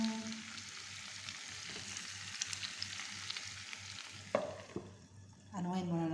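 Pork spareribs with plenty of onions cooking in a pan, a soft, steady sizzle heard close but faint, with a couple of brief utensil knocks near the end.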